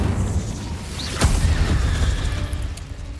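An Incendio fire spell is cast in a video game: a single sharp, sweeping burst of flame rises briefly over a dense, rumbling background, then trails off into the steady game ambience.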